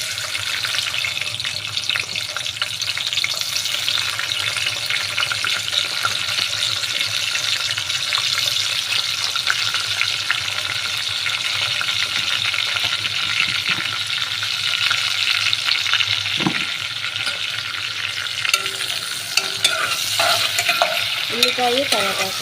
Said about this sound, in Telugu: ఇప్పుడైతే ఉల్లిపాయలు అయితే వేసుకున్నాము.